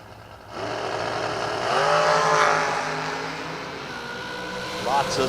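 Drag racing at a strip as a multicolored wing dragster and a second car leave together, engines roaring loudly and continuously under an announcer's voice, building to a peak then holding steady.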